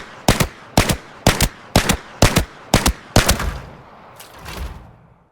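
A new single-fire gun in the video game Arena Breakout Infinite fires seven sharp, evenly spaced shots at close range, each with a short echoing tail, then a softer thud follows after a pause.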